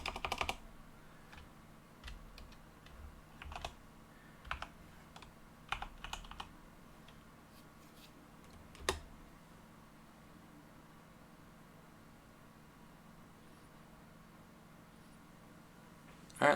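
Computer keyboard typing, scattered soft key clicks in short bursts over the first several seconds, then a single tap and a long stretch of faint room hiss.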